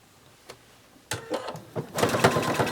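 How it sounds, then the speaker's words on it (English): A sewing machine stitching a long, skinny piece of scrap fabric, starting after a couple of faint clicks and then running in short, loud, close bursts that build into a steady whir. "I'm going to really quick sew a long skinny shape."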